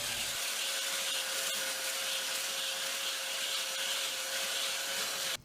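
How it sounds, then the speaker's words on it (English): A belt sander runs steadily on pallet-block wood, a continuous high, hissing whine with a constant tone, sustained from start to finish. "Go to the belt sander."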